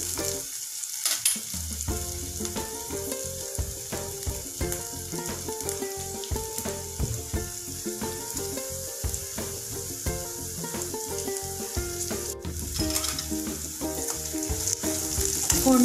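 Tempering for rava upma sizzles hard in a hot pan while being stirred, with continuous crackling frying noise, repeated scraping strokes and a short quiet pause near the start.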